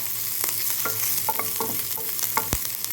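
Spices and pieces of banana leaf fry in a pan with a steady sizzle, and a utensil scrapes and stirs in soft irregular strokes close by. No voices are heard.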